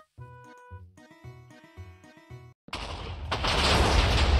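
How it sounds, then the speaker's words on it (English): Minecraft TNT blowing up a house: a short jingly in-game music phrase, then a sudden loud blast that swells into a sustained roaring rumble of debris, with no talking. "That was a huge explosion."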